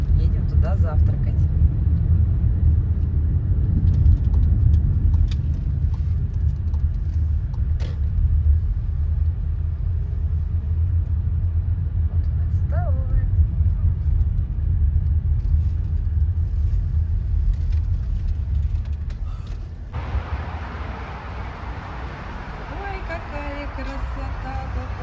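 A car driving on the road away from Kushchevskaya on a summer morning, a steady low rumble of engine and tyres heard from inside the cabin, continuous and fairly loud, easing slightly near the end, with faint voices in the car.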